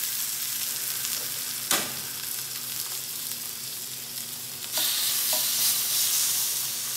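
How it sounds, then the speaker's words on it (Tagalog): Thin-sliced turkey grilling in a pan, a continuous crackling sizzle with occasional sharper pops and a louder burst near the end as food shifts, heard up close with no talking. "i-grill na natin yung turkey"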